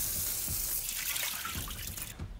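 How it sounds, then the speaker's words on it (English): Fingerling potatoes are rinsed under a running tap, with a steady close splash of water over them that is shifted by a few soft knocks and cut off sharply near the end. "I'm gonna give these a quick wash"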